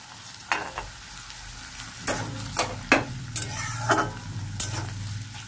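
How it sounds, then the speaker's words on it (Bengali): Chopped garlic and onion fry in oil with a steady sizzle, broken by repeated loud spatula scrapes and knocks against the pan at an uneven pace. "এবার দেবো রসুন কুচি আর পেঁয়াজ কুচিটা একটু ভাজবো"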